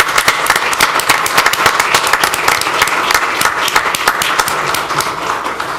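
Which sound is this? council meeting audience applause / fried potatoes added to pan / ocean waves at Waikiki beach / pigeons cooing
council meeting audience applause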